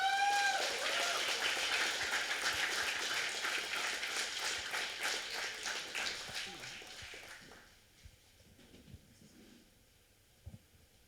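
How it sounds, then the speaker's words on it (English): An audience at a graduation ceremony welcomes the executive director with steady applause that fills the hall for several seconds, then fades into quiet room noise with a few faint knocks. "let us put our hands together with a huge round of applause"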